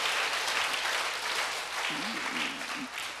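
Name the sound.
congregation applause in church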